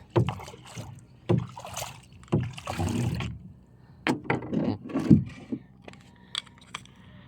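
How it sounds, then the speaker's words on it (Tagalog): A small wooden boat is being turned around on the water near a pier, with irregular knocks, splashes and creaks of the hull and paddle coming in bursts and pauses, close by. "Ikot ko lang muna ang bangka, guys."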